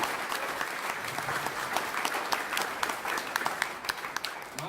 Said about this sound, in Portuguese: dê uma salva de palmas aqui para os nossos queridos